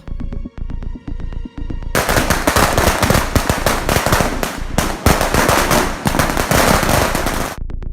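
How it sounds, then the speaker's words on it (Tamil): Firecrackers burst in a long rapid string, sparse pops at first, then a dense, loud, continuous crackling barrage that stops abruptly. "யாரா நீ இங்க வந்து பட்டாசு அடிச்சிட்டு இருக்க"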